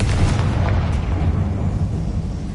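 Confringo blasting spell set off inside an old closed mine in Hogwarts Legacy, a loud booming blast that rolls on as a sustained low rumble.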